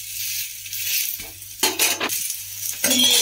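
A ragi dosa being flipped on a hot pan: a couple of short scraping clatters of a metal spatula against the pan over a faint background hiss, no talking.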